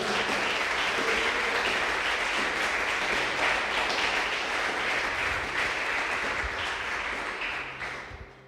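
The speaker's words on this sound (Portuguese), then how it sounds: "Aplaude o nome do Senhor" Church congregation applauding during a worship service, a dense, steady wash of many hands clapping that holds evenly and then tapers off near the end, with no voices over it.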